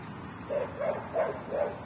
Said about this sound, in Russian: Где-то еще собаки лают